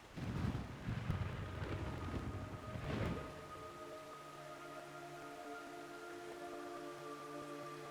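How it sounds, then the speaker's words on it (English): Heavy rain in the video game Metal Gear Solid 3: Snake Eater hisses with a low rumbling roll of thunder at the start, then fades into a steady wash of drizzle under sustained tonal notes. "It's raining blood."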